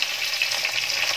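Cauliflower florets and flat beans fry in hot oil in a wok, giving a steady, close sizzle with a soft crackle throughout.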